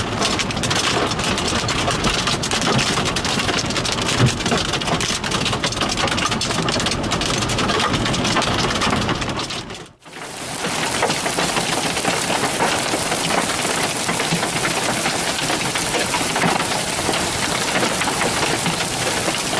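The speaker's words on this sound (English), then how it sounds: "Let's look at a video of some hail." Hail pounding down during a storm, a dense, loud and continuous hiss of impacts with one brief dropout midway.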